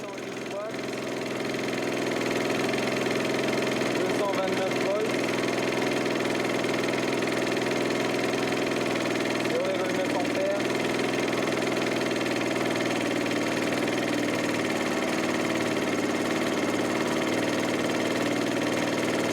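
Engine running lean on self-produced methane gas, a steady mid-pitched drone with a faint knocking pulse, close and continuous throughout.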